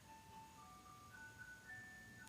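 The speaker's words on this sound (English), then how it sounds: "Do y'all hear the ice cream truck in the background?" A faint, distant ice cream truck chime plays a simple looping melody of thin tones, barely rising above quiet background hiss.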